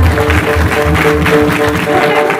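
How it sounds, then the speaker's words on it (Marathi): Audience at a kirtan claps together loudly and close, a dense steady burst of applause lasting a couple of seconds. "माझ्या दोन्ही भावंडांसाठी जरा जोरात टाळी वाजवा."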